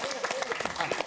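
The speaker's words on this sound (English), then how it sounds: "Can you keep that applause for another show as well?" Studio audience applause on a football quiz show, a brief burst of dense clapping mixed with overlapping voices.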